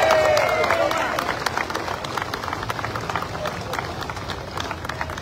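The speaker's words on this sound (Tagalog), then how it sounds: "Pwede ba lakasan nyo palakpak natin?" A crowd at a flag-raising ceremony at the Kartilya ng Katipunan applauds steadily, a dense wash of clapping that fades slightly over a few seconds, with faint voices mixed in.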